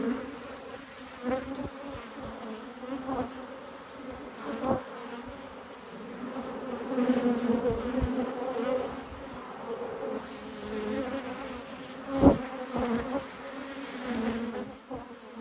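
Bees buzz steadily over a frame lifted from a yellow beehive during an inspection, a dense, continuous hum that swells and fades as insects fly close to the listener, with a few louder passes.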